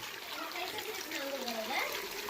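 Hot spring water splashing and trickling steadily nearby in a bathing spot, with people talking over it.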